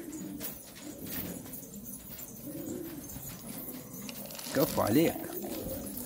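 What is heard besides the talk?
pigeons cooing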